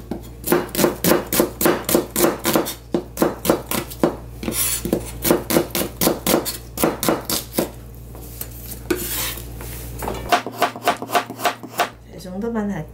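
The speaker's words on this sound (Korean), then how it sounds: "양파는 채 썰어 주시고요" A knife cutting an onion into thick strips on a cutting board, a rapid rhythmic series of close, sharp chops in bursts with brief pauses, and a voice speaking occasionally.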